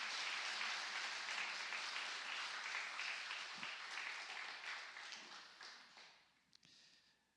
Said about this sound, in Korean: 한 박수 한번 쳐주시겠습니까?